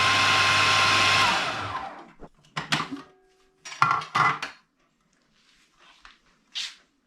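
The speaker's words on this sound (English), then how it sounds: "so we'll give it a good blend up together." A blender whirs through butternut squash hummus in a kitchen for about two seconds, a loud motor whine that winds down, followed by scattered clinks and knocks of utensils and the jug.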